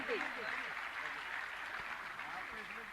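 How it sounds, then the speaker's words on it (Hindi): Audience applause during an honouring at a Jain religious gathering in Bhopal, a steady broadband wash of many hands clapping that holds for the whole stretch, with faint voices murmuring beneath it. "आइए ताली बजा के सम्मान करें।"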